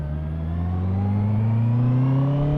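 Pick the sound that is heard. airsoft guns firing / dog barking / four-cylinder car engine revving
four-cylinder car engine revving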